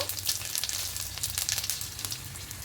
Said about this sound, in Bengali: এবার ওই তেলের মধ্যেই ফোড়নে দেব কালো জিরে সামান্য অল্প দেব গোটা জিরে দুটো শুকনো লঙ্কা দেব